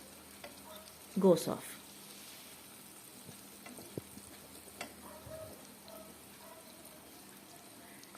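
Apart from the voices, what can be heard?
sauteing garlic in a pan for mutton curry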